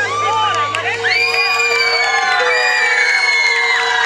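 Concert audience at a show cheering and whooping, a loud crowd roar with shouts and high whistling cries rising over sustained music tones, continuous and energetic.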